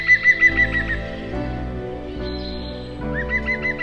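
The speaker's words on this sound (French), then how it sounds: "Ce pic-vert est en recherche d'insectes sur le tronc" A green woodpecker searching for insects on a tree trunk in a forest gives a quick run of pulsing whistled call notes at the start, then again at the end, over steady sustained background tones.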